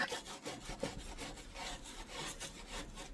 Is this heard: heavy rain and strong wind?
no